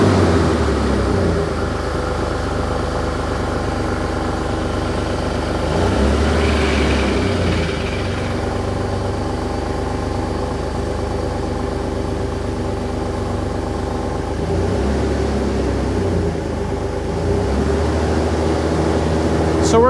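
A Jeep with a swapped 4.6 engine and a slight exhaust leak at the header idles with a steady, low throbbing rumble. There is a faint hiss mixed in, the revs bump slightly twice, and a voice talks over it at moments.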